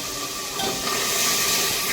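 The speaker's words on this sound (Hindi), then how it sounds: "तो थोड़ा पानी डाल के अच्छे से मिक्स करते हैं" Water poured into a cooking pot over dry spices in a home kitchen, a steady close hissing splash and bubbling rush that grows slightly fuller toward the end, no voices.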